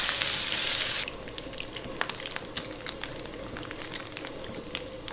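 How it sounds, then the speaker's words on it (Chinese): Pork belly dry-frying in a hot pan with no oil, a steady close crackle and sizzle that starts as a dense hiss and settles into scattered sharp pops and spits, with no voices. "咱们给五花肉啊干煸一下，把五花肉里边的油脂给它逼出来"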